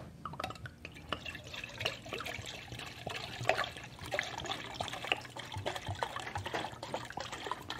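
Liquid pouring steadily from a container into a mixture for hot honey bourbon ice cream, a continuous trickling and dripping stream at close range with no talk over it.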